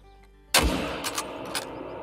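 A single sharp rifle shot at a red deer in the Call of the Wild hunting video game, loud and sudden after near quiet, with a rolling echo and a couple of fainter reverberating cracks trailing off.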